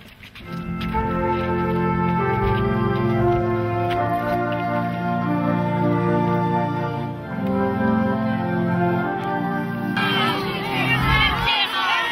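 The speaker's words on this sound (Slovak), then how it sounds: "Čo je to za krik?" A crowd of performers shouts and calls out in unison during an outdoor passion play in Spišské Bystré, a loud, sustained wall of massed voices that turns into a rougher burst of overlapping yelling near the end.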